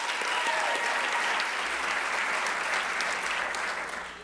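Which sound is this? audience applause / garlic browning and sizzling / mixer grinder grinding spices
audience applause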